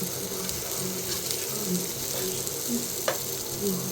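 Fish frying in hot oil for a simple home-style fish fry, a steady dense sizzle with occasional soft pops and clinks, close and continuous with no talking.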